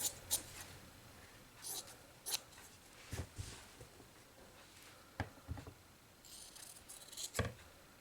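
Scissors cut a 3-inch fabric circle for a cross stitch drum finish: quiet, scattered snips and rustles come in short, irregular bursts, close up, with no voices.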